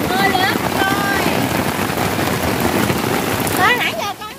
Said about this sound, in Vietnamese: Mưa lớn rồi.